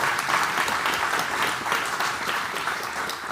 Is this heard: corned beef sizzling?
no